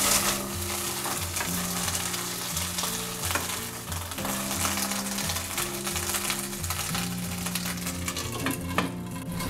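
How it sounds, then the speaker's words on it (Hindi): Half a kilo of green peas frying in hot oil for matar nimona, a dense, continuous sizzle with steady, regular scraping strokes of a spoon stirring through the pan, loud and close, no voices. "1/2 किलो हरा मटर है, इसे हम अच्छे से भूनेंगे"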